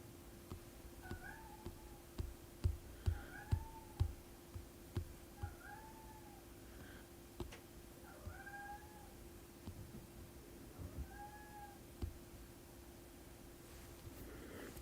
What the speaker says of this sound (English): I guess the cat's hungry.